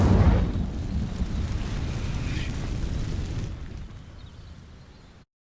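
Incendio fire spell cast in Hogwarts Legacy: a loud fiery burst that opens with a strong roaring whoosh, then settles into a sustained crackling rumble before cutting off abruptly.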